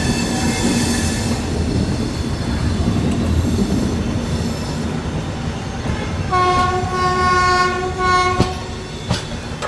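A Garib Rath express train hauled by a WAP-7 electric locomotive rumbles along with steady wheel and rail noise, then a loud, sustained horn blast sounds near the end, followed by sharp clanks.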